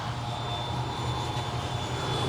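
Electric ducted fan RC model jet at the Florida E-Jet Fest, a steady close whining turbine-like hum with a low drone underneath, continuous and unbroken with no talk.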